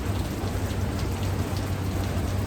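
Dense, steady rain drumming on a metal roof on a rainy day, a constant close patter with a low hum beneath it and no talking.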